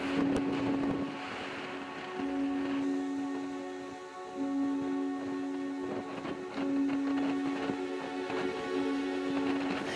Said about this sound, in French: les premières neiges sont tombées et le vent souffle très fort